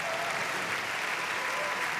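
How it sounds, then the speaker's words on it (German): A theatre audience at a Scala Theater Köln show gives sustained applause, dense even clapping from a full house throughout. "euer Applaus"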